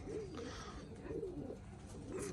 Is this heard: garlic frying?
no